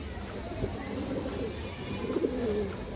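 Big-headed pigeons coo nearby in soft, low, rolling calls that repeat under a steady background murmur, with some faint talk.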